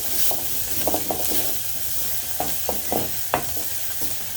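Leek onions fry with a constant close sizzle in a pan while a utensil scrapes and knocks against it in several quick, irregular strokes.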